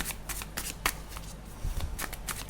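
Tarot cards are shuffled by hand, close and crisp, with quick, repeated riffling flutters and soft taps in an uneven rhythm.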